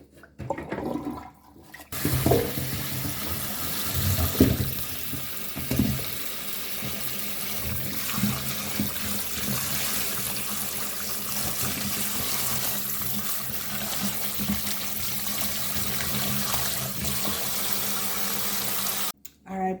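Water gushes steadily from a tap into a sink, a continuous rushing splash with some clattering at the start before it cuts off at the end.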